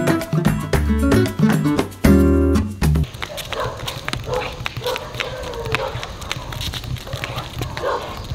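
Dog outdoors barking in short repeated bursts amid rough background noise, following a loud harmonic passage at the start.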